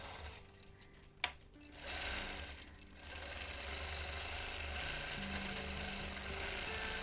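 A quilting machine stitches a ribbon candy border pattern across a wholecloth quilt, running as a steady close mechanical whir that starts, pauses once, then continues evenly without talk.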